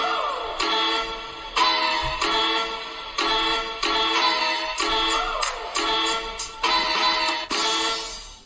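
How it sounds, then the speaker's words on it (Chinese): Music playing through the built-in speakers of a Lenovo Xiaoxin Air 14 2020 laptop, a steady rhythmic tune with regular beats running for several seconds, captured at close range with no talking. "然后呢我们来听一听它基础的一个外放的声音"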